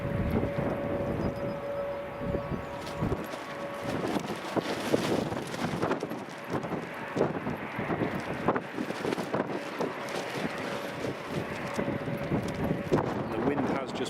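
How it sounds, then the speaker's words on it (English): Strong wind gusts buffet the microphone at Edinburgh Airport, a rough roar that swells and eases over a steady background hum while someone talks on and off. "The wind has just picked up, the gusts are a lot stronger now than what they were."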